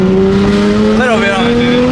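Nissan Skyline R33 GTR engine held against the brakes and revved, a loud close drone that rises in pitch partway through, with voices talking over it.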